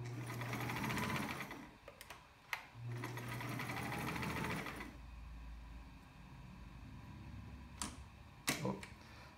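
A fully overhauled vintage Sears Kenmore 148 sewing machine runs in steady whirring stretches of stitching, stopping and restarting with a few sharp clicks and knocks in between, close up and fairly quiet.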